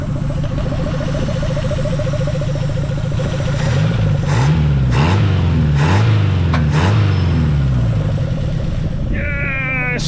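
A Mazda B2200 pickup engine starts up on a new fuel system after sitting for twenty years, running steadily with a loud, continuous mid-pitched drone and brief surges of revving in the middle.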